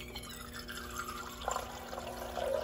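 Water runs into a bottle, a soft close pour whose pitch slowly rises as it fills, over a faint steady hum.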